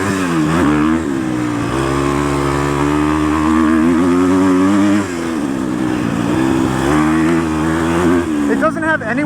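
A Husqvarna FC250 dirt bike engine revving hard while being ridden out of a corner, a loud, close, buzzing four-stroke note that holds high and shifts pitch, with some talking over it.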